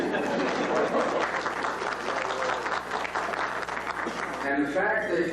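An audience at a Sephardic community's 75th anniversary event applauds in a dense, sustained clatter of clapping that fills the room, with a voice heard over it near the end.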